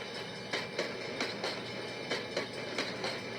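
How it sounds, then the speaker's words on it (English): A freight train hauled by two CF7 locomotives rolls past with rhythmic clickety-clack of wheels over rail joints, steady rumbling underneath, fairly close and with no voices. "2 CF7 locomotives were on the current train."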